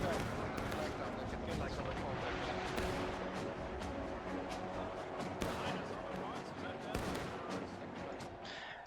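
Sustained rifle gunfire and distant cannon booms rattle through a Civil War multiplayer game battle between Union and Confederate sides, with dense overlapping shots and sharp cracks throughout, under continuous commentary.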